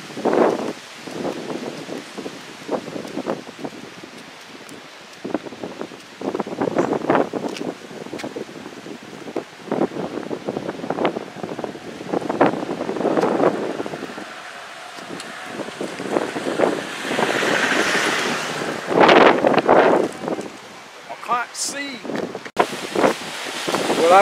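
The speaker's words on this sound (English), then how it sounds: "I don't know if you can hear what I'm saying because the wind's blowing some down." Strong, gusty wind buffets the microphone beside an airport runway in bad weather as jets take off, rising and falling in loud roaring bursts, with someone talking intermittently over it.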